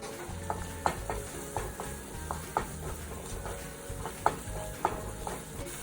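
Garlic paste sautés with a little salt in a hot pan for pav bhaji, a steady close sizzle broken by repeated sharp scrapes and taps of a spoon stirring.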